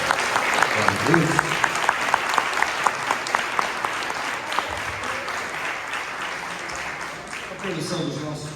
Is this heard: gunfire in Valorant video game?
no